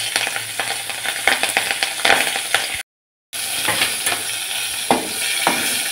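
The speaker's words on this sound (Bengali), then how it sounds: "কালো জিরে আর কাঁচা লঙ্কার ফোড়নটা হয়ে আসবে।" A tempering of black cumin and slit green chillies crackles in hot oil, a bright crisp sizzle with quick stirring scrapes and small pops, cut by a brief silent gap midway, with no voices.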